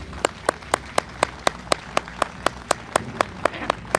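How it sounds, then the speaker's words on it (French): Outdoor crowd at a Victory in Europe commemoration in Caudry applauds civil security cadets, with evenly spaced, crisp rhythmic claps in unison standing out over a low background murmur. "je vous propose, messieurs, dames, de leur offrir de chaleureux applaudissements pour leur présence"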